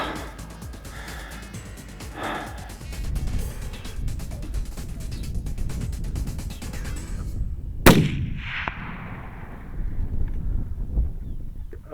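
A single loud rifle shot cracks out during a mule deer hunt in the New Mexico desert, a sharp close blast over steady wind and rustling outdoor noise that fades away after it.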